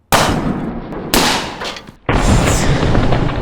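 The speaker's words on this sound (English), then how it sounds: "I tested a device that turns air into a shockwave" Compressed-air shockwave cannon firing three times, each a sharp, loud blast with a short decaying rumble, close and with no talk between the shots.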